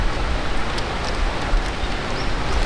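Rain falling steadily at Eiheiji temple in Fukui, a dense, even hiss of drops that stays loud and constant throughout, with no other sound standing out.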